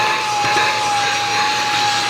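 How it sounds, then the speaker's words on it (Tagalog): Portable car vacuum cleaner running continuously, a steady high-pitched motor whine with a thin airy hiss, close and loud for the whole short stretch, with no talking. "And then, itong vacuum."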